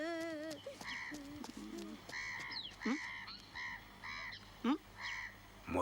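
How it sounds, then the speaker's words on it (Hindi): A rooster or chicken calls in repeated squawking, honking cries over a steady background hum, with several separate calls spread across the scene. "ये मुर्गी किसकी है?"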